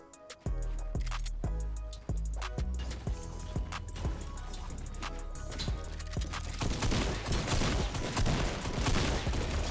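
Sniper rifle shots in a video game, a few sharp, loud cracks spaced through the first seconds, followed by dense chaotic gunfire and game noise.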